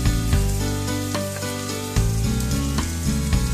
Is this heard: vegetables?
yes